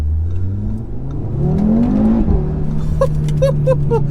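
An Audi RS3 engine revs up loudly while driving, a rising then falling whine with a strong low drone, followed by a few sharp crackles or pops near the end.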